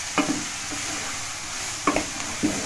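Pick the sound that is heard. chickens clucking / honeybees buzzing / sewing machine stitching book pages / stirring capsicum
stirring capsicum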